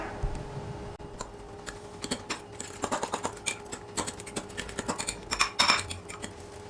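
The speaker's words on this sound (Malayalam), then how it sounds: "ഇനി എല്ലാം കൂടെ നല്ലതുപോലെ ഒന്ന് മിക്സ് ചെയ്യാം." Whisking an egg and vegetable mixture for a fluffy omelette, with a steady run of quick, light clinks and taps of utensil against bowl. The clinks cluster and grow louder toward the end, with no talking.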